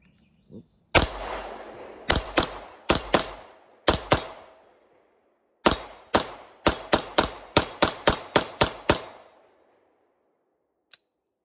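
Sig Sauer 9mm pistol firing from an 18-round magazine, sharp loud shots at an outdoor range, first spaced irregularly, then a faster string of evenly paced shots, with a faint click near the end.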